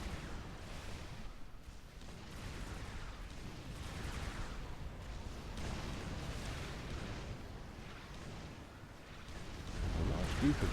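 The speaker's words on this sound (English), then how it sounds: "a beautiful first artillery shell there to welcome them onto the field" Artillery shells firing and landing across a battlefield in the strategy game Supreme Commander, a steady dense rumble of low booms and blasts lasting throughout, mixed with game noise and a commentator talking over it.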